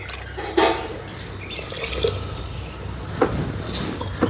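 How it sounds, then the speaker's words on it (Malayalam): Water is poured into a pot of bilimbi curry cooking over a wood-fired stove, giving a soft, continuous splashing trickle with a few small knocks, close but fairly quiet. "ആവശ്യത്തിനുള്ള വെള്ളം, കറിക്ക് ചാറ് വേണ്ടവർക്ക് അതനുസരിച്ചുള്ള വെള്ളം ഒഴിക്കാം."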